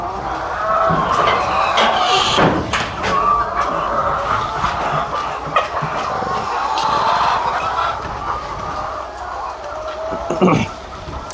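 Hens in a large egg-laying poultry shed make a dense, steady chorus of clucking and squawks, with scattered sharp clicks and knocks. The sound carries on without a break for the whole stretch.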